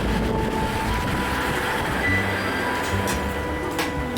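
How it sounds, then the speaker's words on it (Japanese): Low rumbling train noise with rail clatter as a train arrives at a station in Koriyama, Japan, steady and moderately loud throughout, no talking. "anyway, the train is here, so let's get on."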